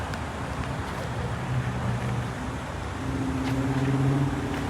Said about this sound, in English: You can see 5 lanes of traffic, all of them seeing the big banner.